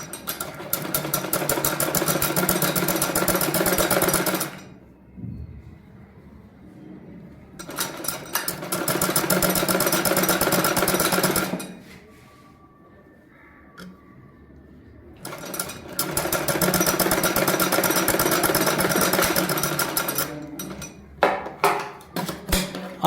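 Sewing machine running in three long bursts as it stitches along the edge of fabric piping on a kameez neckline, a steady dense whir broken by short pauses and a few faint clicks.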